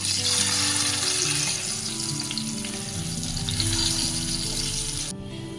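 Potato pieces fry in a pan for a fish curry, giving a steady, close sizzle and crackle that continues throughout, briefly quieting near the end.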